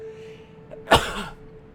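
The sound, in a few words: sneeze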